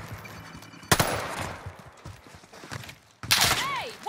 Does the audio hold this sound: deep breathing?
no